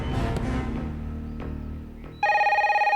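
A telephone rings in a Hindi film scene after a stretch of low music and noise, its electronic tone starting abruptly and pulsing steadily near the end, with no talk over it.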